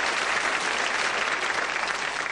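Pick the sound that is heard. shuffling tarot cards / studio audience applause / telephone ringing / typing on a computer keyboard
studio audience applause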